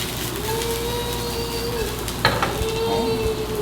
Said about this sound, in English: I'm stirring that up, getting that peanut oil kind of around everything.